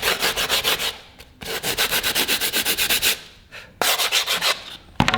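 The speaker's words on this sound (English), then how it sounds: "Basically just sort of sand it back out." Hand sanding of a repaired ABS blade, rhythmic back-and-forth rubbing strokes in three bursts separated by short pauses, close and fairly loud with no talking.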